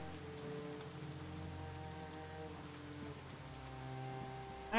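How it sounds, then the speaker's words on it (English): Steady rain falls in the video game ShadowRun Hong Kong, a continuous soft patter on surfaces over a low droning hum, even and unbroken from start to finish with no talk. "Damn, rain."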